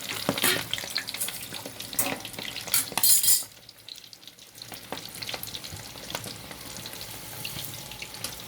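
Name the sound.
prawns frying in oil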